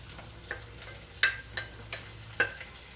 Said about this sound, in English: our butter is pretty much melted, so let's get our mushrooms in there